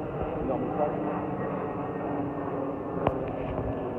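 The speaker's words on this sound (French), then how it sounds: "Bien entendu, on entend les avions, c'est normal." An airplane near the Porto airport passes overhead as a steady broad roar that fills the background, with one sharp knock partway through.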